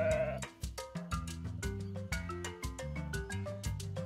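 Sheep bleat among farm animal toys, the calls soft and fairly quiet over a bouncy, repetitive melodic backing.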